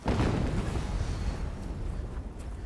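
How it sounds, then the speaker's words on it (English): Another blast in Horizon Zero Dawn Remastered, one low booming explosion that hits loud and then decays into a rumbling, crackling tail over a couple of seconds. "Another explosion."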